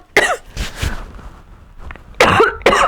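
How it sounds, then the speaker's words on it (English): A person coughs several times in sharp, harsh bursts, with pauses between them and no speech. "Sorry for the coughing."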